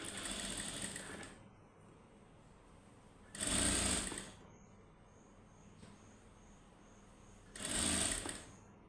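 Sewing machine stitching along folded-under fabric hems, two loud bursts of running stitches separated by quieter pauses, close and clear with no talk.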